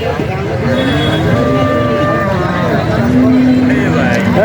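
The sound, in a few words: cattle mooing at a traditional cattle market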